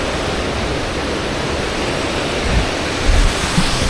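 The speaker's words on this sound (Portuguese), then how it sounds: "essa é a segunda cachoeira" Waterfall at Garganta do Diabo in Lages, in the Serra Catarinense: a steady, loud broadband roar of falling water throughout, with a few low thumps near the end.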